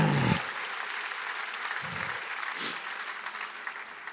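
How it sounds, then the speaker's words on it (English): Applause from a convention audience for Buzz Aldrin, moderate and somewhat distant, with a dull thump at the start and the clapping tapering off through the rest. "give another really loud round of applause this time for Buzz Aldrin"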